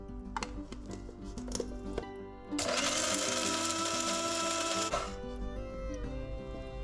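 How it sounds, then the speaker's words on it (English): An electric spice blender grinds poppy seeds, black peppercorns and green cardamom pods, a loud steady whirring burst of about two and a half seconds that starts abruptly and then cuts off, with quieter kitchen clatter before and after. "they are all going to go into my spice blender to mix them together"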